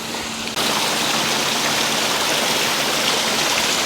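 A waterfall above Kathmandu, Nepal, pours in a steady, loud broadband rush that jumps up abruptly after half a second and then roars on unbroken, with no voices.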